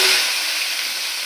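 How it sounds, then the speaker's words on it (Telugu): Okra (bendakaya) frying in a pan, a brief bright sizzle that starts loud and settles into a steady hiss, close by. "ఇవి బాగా ఫ్రై చేసుకోవాలి బెండకాయ"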